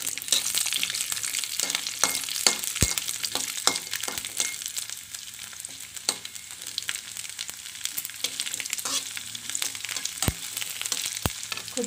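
Urad dal, chana dal and cumin fry in a little oil for a chutney, giving a steady close sizzle with occasional sharper crackles and pops throughout.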